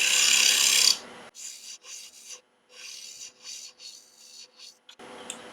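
Woodturning tool cutting material from the center of a wood recess, a loud scraping burst followed by a series of short rasping cuts with brief pauses, close up.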